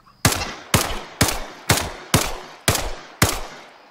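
Seven evenly spaced pistol shots in Arma Reforger, each a sharp loud crack with a short decaying tail, fired at a steady rhythm about half a second apart.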